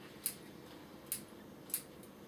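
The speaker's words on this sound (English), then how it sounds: "You take your scissors" Scissors snip back the twigs of a bonsai tree, three sharp, evenly spaced clicks against a quiet background with no talking.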